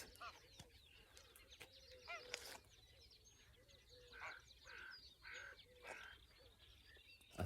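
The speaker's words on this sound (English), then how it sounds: "Come some geese." Geese flying over near a pond at White Dyke around sunrise, giving a few distant, faint honks in short bursts amid scattered birdsong and quiet outdoor ambience.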